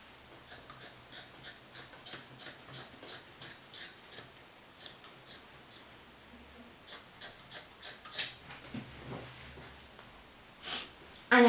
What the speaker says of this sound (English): we're going to cut off that excess fabric